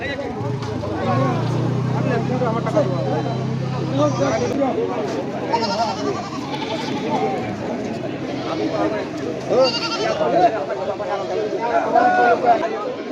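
Local goats bleating at the Babur Hat livestock market in North Bengal, with several scattered bleats rising over constant chatter and people talking nearby.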